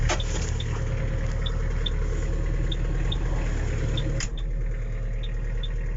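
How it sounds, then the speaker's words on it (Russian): A Mitsubishi MT306 Japanese cab tractor already started on a very cold day, its engine idling in a steady, even low drone that carries on throughout with small clicks above it. "Сегодня у нас очень холодно, поэтому трактор уже заведен"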